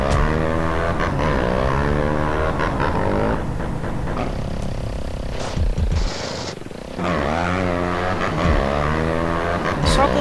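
A propeller airplane engine in GTA San Andreas drones with a steady harmonic roar that rises and falls in pitch. It dips and briefly drops out midway, then swells back loud and close.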